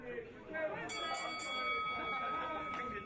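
A wrestling ring bell clangs a few quick times in a row, ringing out over crowd chatter and an announcer talking through the match.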